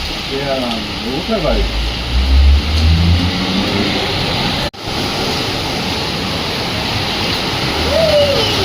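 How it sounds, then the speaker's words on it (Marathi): Heavy floodwater from a cloudburst rushes steadily into a building's parking area in Nashik, a continuous loud roar with a car engine rumbling low and people talking over it. "हे सगळं वरून पाणी"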